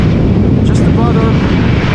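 An airliner lands in a crosswind at Amsterdam Schiphol, giving a loud, rumbling engine roar with a brief tonal whine partway through, while a person talks over it.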